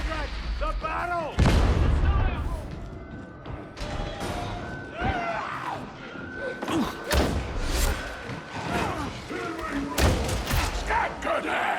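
An exploding barrel in Warhammer 40,000: Darktide makes a loud heavy blast. Repeated thuds, gunfire and crashing impacts follow in a chaotic fight, with voices shouting among the noise.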